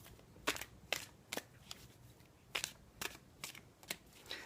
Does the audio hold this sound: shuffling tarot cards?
yes